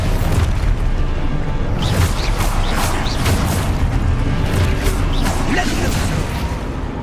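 Booming spell blasts and bursts in a dense, loud magical fight in Hogwarts Legacy, the Expulso explosion among constant pops, crackles and rumbling combat noise with no break throughout.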